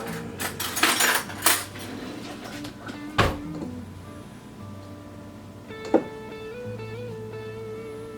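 A metal spoon clinks and scrapes against a bowl while stirring a two-ingredient biscuit dough, giving a few sharp knocks early on and a brighter clink near the end over a quiet kitchen background.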